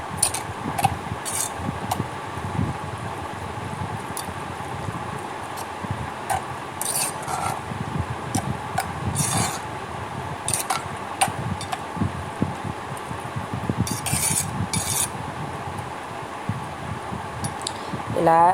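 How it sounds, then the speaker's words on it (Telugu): Spoon scraping and clinking in a bowl while mixing curd rice with chopped onion and salt, irregular soft strokes with occasional sharp metallic taps, close and fairly quiet. "వేసుకొని స్పూన్తో శుభ్రంగా కలుపుకోవాలి"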